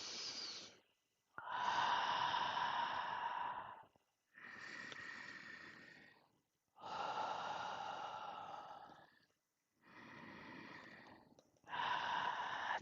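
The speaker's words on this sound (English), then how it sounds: "Let's take 3 deep breaths to close the circle." Three deep, slow breaths taken in and let out, close and soft, each long inhale and exhale separated by short pauses.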